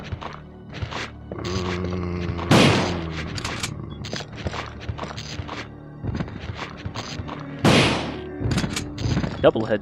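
Gunfire in Resident Evil 2: a run of loud, sharp shots with heavy thuds, two big blasts standing out, spread irregularly across the stretch among other game sounds and speech-like noise.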